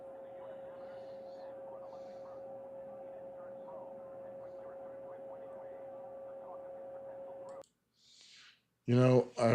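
A stray radio or TV transmission bleeding into a recording: a steady tonal hum over crackly broadband noise, which cuts out abruptly and then returns as short, loud, voice-like bursts.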